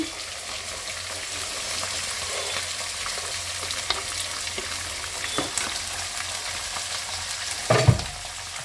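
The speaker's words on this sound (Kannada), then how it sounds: "ಹಸಿಮೆಣಸಿನ್ಕಾಯಿ, ಈರುಳ್ಳಿ ಅದೆಲ್ಲ ಏನಿದೆ ಅದನ್ನು ಹಾಕ್ತೀನಿ." Capsicum, green chillies and onion frying in a pan, a steady soft sizzle with scattered crackles and stirring scrapes, close but moderate, ending in a louder clatter.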